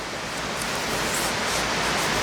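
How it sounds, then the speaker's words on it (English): Steady, dense rain hisses continuously, a close, even wash of noise with no voices. "Can you hear that rain?"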